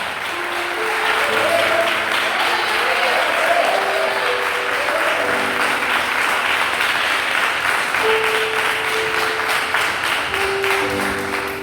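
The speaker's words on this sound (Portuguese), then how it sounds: "Aplauda mais forte." Loud, sustained applause from a large church congregation during a sermon, steady for the whole stretch, with a few melodic tones and faint voices drifting underneath.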